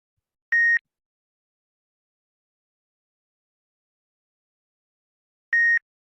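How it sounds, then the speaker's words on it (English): Two short, clean electronic beeps sound about five seconds apart, with silence between them, marking the switch between breathing in and out during a guided mindfulness breathing exercise. "At every beep, you can switch from inhale to exhale or exhale to inhale."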